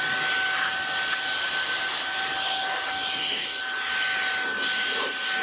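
A rechargeable three-speed handheld air duster blows a steady, close airy hiss that stays level throughout, with a faint high whine running beneath the rush of air.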